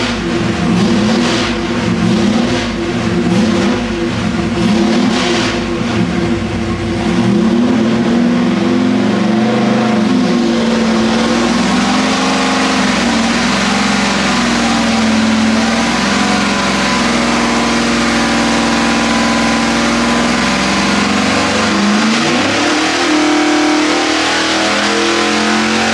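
A 406 small-block Chevy on an engine dyno idles with a lumpy rhythm, then climbs into a loud, sustained roaring pull that holds near full volume for most of the run before easing back.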